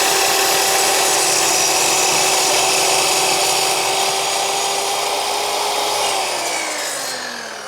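An Einhell 2112 mitre saw runs loud and steady through a cut in wood, a continuous high whine with rough sawing texture, then the motor spins down and fades at the end.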